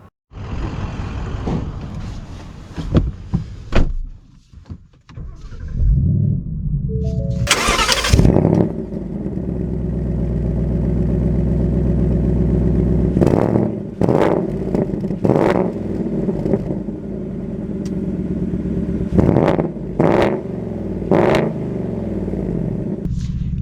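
A 2023 Ford Mustang GT with a manual gearbox cranks and fires up, then a loud V8 roar settles into a rumbling idle and revs up and down as it drives, with clicks and shifts between.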